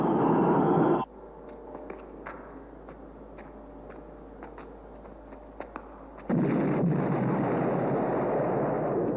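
Rumbling explosions on a planet's surface in a science-fiction series open and close the stretch, loud broadband bursts with a quieter gap between them dotted with sharp cracks and ticks.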